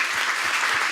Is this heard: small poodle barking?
no